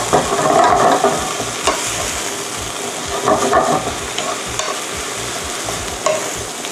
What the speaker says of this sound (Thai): เดี๋ยวเราจะใส่ตัวผักไควาเละลงไปผัดแป๊บเดียวนะคะเพราะว่าค่อนข้างสุกเร็วคล้ายๆผัดถั่วงอก